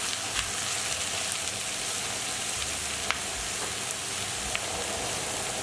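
Beef mince frying in a pan with onions and capsicum for Turkish stuffed eggplant, giving a steady, dense sizzle with scattered sharp pops and crackles throughout, close and without talk.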